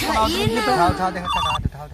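A telephone rings briefly while people talk over it in a lively exchange, the ring cutting off sharply at the end.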